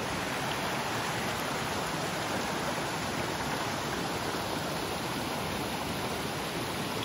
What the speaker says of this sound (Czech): Zurčí ten vodopád trošku.